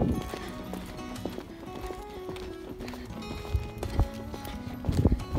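Hooves of a ridden pony in an irregular clip-clop rhythm, close and fairly loud, with a few harder strikes near the end and no talking.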